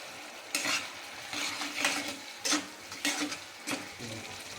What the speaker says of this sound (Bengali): এবার মশলাটাকে ভালো করে কষাতে থাকবো যতক্ষণ না মশলা থেকে তেল ছাড়ছে।